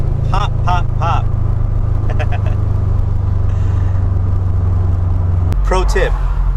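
A car fitted with an upgraded exhaust, its engine idling with a deep steady rumble while short bursts of voice break in over it, then a sharp crack or pop near the end before the engine note shifts.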